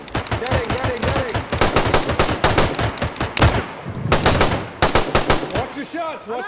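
Dense automatic gunfire in the DayZ video game, long rapid bursts with a brief pause mid-way, loud and close, with a voice faintly under the shots.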